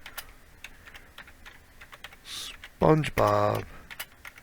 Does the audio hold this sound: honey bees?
no